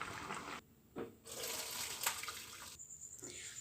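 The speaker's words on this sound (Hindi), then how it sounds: "देखिए राइस को मैंने छान लिया है" Water from parboiled rice draining through a strainer in a kitchen, a steady splashing pour that pauses briefly twice before resuming, soft and alone with no talk.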